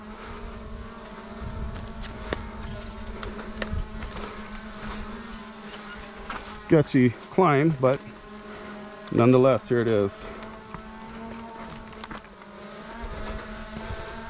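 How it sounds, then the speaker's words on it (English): A camera drone hovers and follows a person along the dusty Murphys Ranch trail ruins, its faint steady buzzing whine running throughout while someone talks briefly over it. "Have the drone on follow me mode here."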